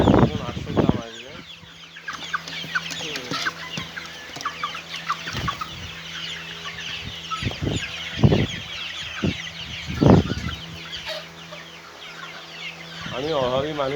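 Farm chickens cluck loudly in a series of sharp calls, some close and some farther off, over a low, steady hum.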